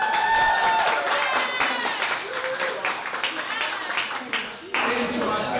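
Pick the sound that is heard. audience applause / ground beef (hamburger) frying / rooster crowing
audience applause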